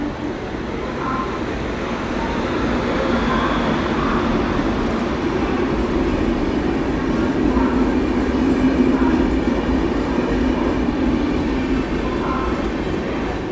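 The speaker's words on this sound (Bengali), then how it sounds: "2 নম্বর প্ল্যাটফর্মে ঢুকছে বিবেক এক্সপ্রেস, ডিব্রুগড় কন্যাকুমারী।" The Vivek Express, Dibrugarh to Kanyakumari, rolls into platform 2 of a railway station with a loud, steady rumble and faint wheel clatter that swell slightly as the carriages pass close by.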